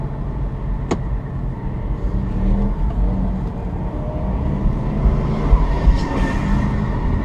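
A 1970s Plymouth Duster drag races a current Chevrolet Camaro at an eighth-mile strip: a steady roar of engines under wide-band track noise, with a sharp transient near the start and rising intensity toward the end.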